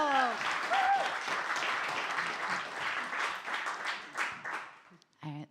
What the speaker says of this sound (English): Oh, we do a round of applause.